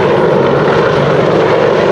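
An AH-64 Apache attack helicopter drones loudly and steadily close by, a dense, continuous rotor and engine roar with no pause.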